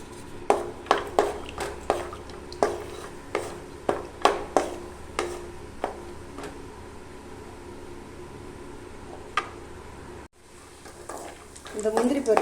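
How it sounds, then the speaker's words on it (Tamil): Cashews and raisins tossed into hot ghee for kesari, with a spoon clinking repeatedly against the pan over a soft background hiss of frying. The sound breaks off briefly, then a louder sizzle comes in at the end. "இதில் வந்து இந்த முந்திரி பருப்பு உலர் திராட்சையெல்லாம் அதில் கொட்டி வறுத்துக்கலாம் நல்லா வறுத்துக்கிட்டுலாம்"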